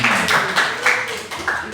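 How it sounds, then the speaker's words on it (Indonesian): Bursts of group hand clapping at a youth Christmas church gathering, several uneven waves of claps in quick succession, fairly close and loud, with murmuring voices underneath. "Kasih tepuk tangan dulu buat teman ya."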